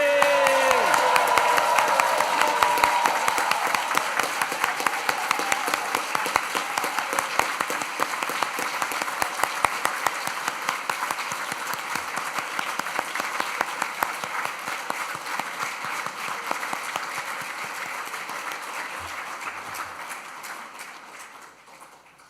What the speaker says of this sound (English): let's celebrate with a huge cheer and round of applause